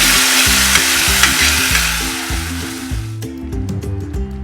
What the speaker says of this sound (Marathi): आता मी ही शिजलेली डाळ मेथी त्याच्यात घालते।